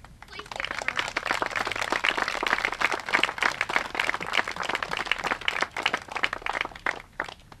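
An audience at a Cycling Without Age event gives a dense, sustained round of applause with many rapid overlapping claps, fairly close and loud, lasting throughout with a few cheers mixed in.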